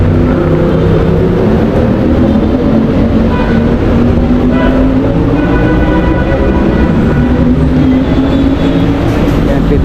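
Steady, loud rumble of an MRT metro train running along the rails, a continuous low drone with faint tonal whines, no voices.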